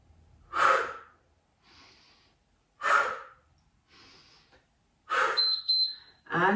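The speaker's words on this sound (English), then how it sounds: "Nice noisy exhales." Forceful, noisy exhales during a yoga HIIT workout, three or four sharp breaths spaced a couple of seconds apart, close and loud, with softer inhales between and a short electronic beep near the end.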